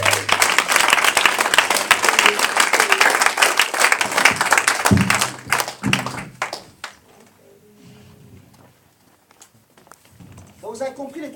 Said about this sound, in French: Acclamons Jésus le roi.